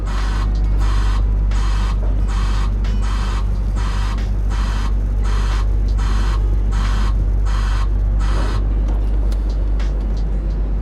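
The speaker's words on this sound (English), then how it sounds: "The left joystick pushing right is going to make the machine slew right." Hydraulic piling and drilling rig slewing right on joystick control in a low-headroom setting, a loud steady engine drone with a regular pulsing whine repeating about once a second, then easing off near the end.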